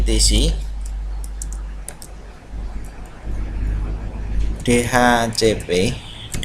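Keys clatter on a computer keyboard as a command is typed to set up a DHCP server: a quick run of light clicks, followed by someone speaking.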